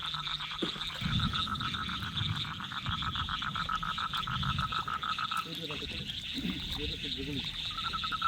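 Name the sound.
frogs croaking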